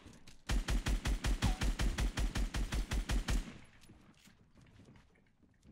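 Rapid automatic gunfire in the video game Fortnite, a loud burst of about fifteen evenly spaced shots lasting around three seconds, then quiet.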